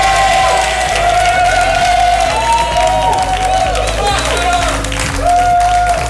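A studio audience applauds steadily for a comedian, dense close clapping mixed with crowd cheers and a whoop, while a loud voice talks over the applause throughout.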